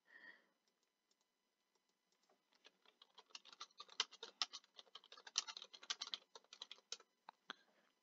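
Rapid, uneven clatter of fingers typing on a computer keyboard, starting with a few scattered taps and building into dense bursts of keystrokes, close and fairly quiet with no talking.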